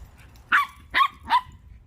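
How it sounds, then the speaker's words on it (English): A dog barks three times in quick succession, close and fairly loud, while out running around on a summer day. "You hear Gracie barking?"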